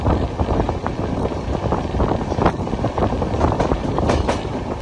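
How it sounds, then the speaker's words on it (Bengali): The Sealdah Jammu Tawi Humsafar Express rolls into Ambala Cantonment station in Haryana, a continuous close rumble of carriages with faint clicks of wheels on track, no voices. "আমাদের ট্রেন এই সময় এসে পৌঁছালো হচ্ছে হরিয়ানার আম্বালা ক্যান্টনমেন্ট স্টেশন।"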